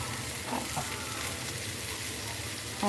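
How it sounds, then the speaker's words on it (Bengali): Water lily stems frying in oil produce a brief, steady hiss and sizzle, fairly quiet and close. "এবার তেলের মধ্যে শাপলাগুলো দিয়ে দিলাম"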